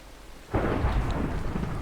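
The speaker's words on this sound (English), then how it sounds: "Oh, these lightning strikes don't make me feel very comfortable." Thunder from a lightning strike in Minecraft breaks suddenly over quiet rain, then rolls on as a loud, sustained rumble mixed with steady rainfall.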